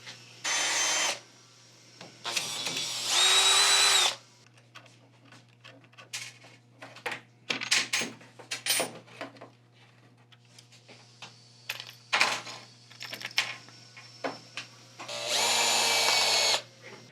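A power driver whirs in short bursts to take screws out of a skeleton arm, mixed with clicks, taps and handling of small metal parts between the bursts.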